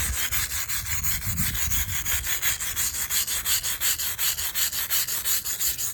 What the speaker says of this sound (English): softly wire brush it, getting the excess off, and make sure you're opposite of the crack